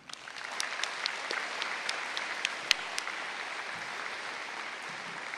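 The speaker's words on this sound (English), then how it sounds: "Please give yourself a round of applause and a pat on the back for this accomplishment" A graduating class applauds at a school commencement ceremony, steady crowded clapping that continues evenly throughout with scattered sharper claps.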